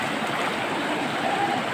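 Strong floodwater in Asansol rushes past in a steady, dense broadband roar, close and continuous with no talk.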